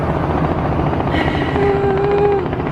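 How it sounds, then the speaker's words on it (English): A helicopter drones somewhere overhead outdoors at an Orlando, Florida resort, a steady broadband rotor rumble filling the clip continuously with a faint rising tonal whine partway through. "Helicopter somewhere."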